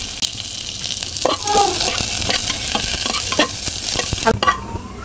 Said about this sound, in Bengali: তেলটা গরম হয়ে আসলে এর ভিতরে দিয়ে দেবো সামান্য জিরা, আর দিয়ে দেবো একটু পেঁয়াজ কুচি